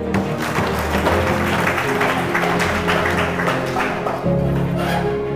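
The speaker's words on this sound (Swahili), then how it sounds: "pigieni makofi" A crowd at a political rally in Tanzania claps together in steady, dense applause that holds for several seconds, with a brief dip before it swells again.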